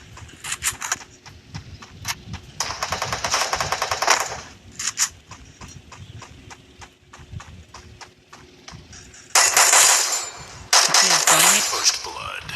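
Rapid bursts of automatic gunfire from the shooter game Free Fire rattle in several volleys, loud and close, with a player's voice talking between shots.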